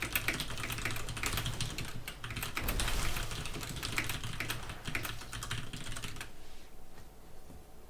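Rapid, dense keyboard typing during a Zagara StarCraft II match, a steady clatter of keystrokes that runs loud and close for most of the span, then thins out near the end.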